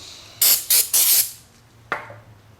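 Brake cleaner sprayed onto a new brake rotor to strip cosmoline from the friction surface: three loud hissing bursts in quick succession, then a brief fainter spritz after a pause, with no talking.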